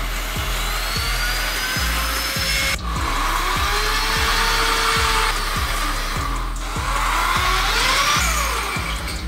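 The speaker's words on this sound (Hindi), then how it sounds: "चलो अभी जरा छेद कर लेते हैं।" Electric drill boring holes into a wall: a loud, steady motor whine with a grinding, rhythmic knocking from the hammer action. It runs close and continuous, pausing briefly between holes.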